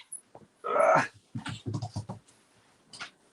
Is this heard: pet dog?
yes